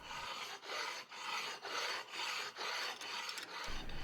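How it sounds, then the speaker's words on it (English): An oil stone rubs over a steel fixturing plate in steady back-and-forth strokes, about eight close, even rasping passes with brief dips between them. "Followed by a pass with an oil stone to remove any high spots of scale."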